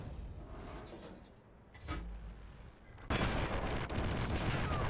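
Wespe self-propelled artillery gun firing in World of Tanks, a loud sudden blast that bursts out and sustains a dense rumbling roar after a smaller burst earlier, over steady battlefield background noise.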